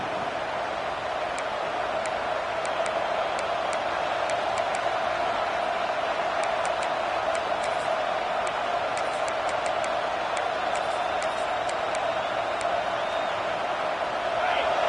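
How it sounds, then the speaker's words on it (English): Home crowd at an NCAA college football game with Tennessee, a dense, steady roar of cheering filling the stadium, with scattered whistles and whoops throughout. "this home crowd is fired up and ready to make a difference today"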